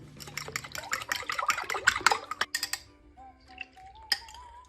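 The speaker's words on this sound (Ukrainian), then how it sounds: "Попередньо їх збиваємо виделкою." Eggs beaten with a fork in a bowl while making a homemade meatloaf, a rapid run of close, clinking taps of metal on the bowl for a few seconds, then quieter scattered kitchen sounds.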